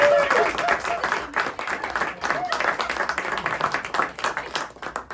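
An audience at a live magic show applauds a volunteer after a floating-bill card trick, a dense, steady clatter of many hands with a voice talking over it.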